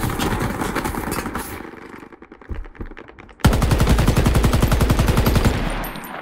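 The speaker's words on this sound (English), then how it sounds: "Whoa, she has very big machine gun!" Rapid machine-gun bursts from a heavy weapon in the online shooter Shatterline, loud and close, with dense rhythmic firing that breaks off briefly before a sustained, even louder stream of shots.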